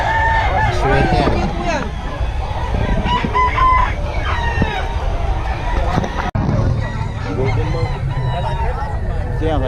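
Chickens and a rooster at Bocaue, with repeated cock-a-doodle-doo crowing and clucking, loud and close, laid over a constant busy background of voices and talk.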